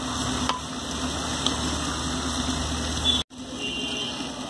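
Mutton and onion layers being stirred together in a pot for mutton handi, a steady low scraping and churning with a faint sizzle beneath, a few soft clinks, and a brief break near the end.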